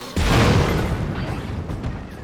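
The Battle Korok mech in Zelda: Tears of the Kingdom sets off a sudden, loud, deep explosion that booms and then rumbles away over about two seconds.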